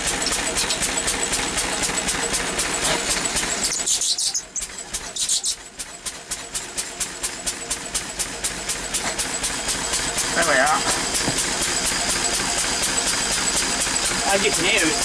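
Lister D stationary diesel engine runs under dyno load close by, a steady heavy chugging beat with a brief dip midway before it pulls hard again; someone speaks briefly over it.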